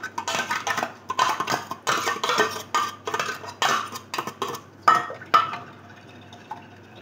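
A spoon works potato ball mixture and cream together in a bowl, making repeated wet, clattering stirring strokes in a steady rhythm that trail off at the end.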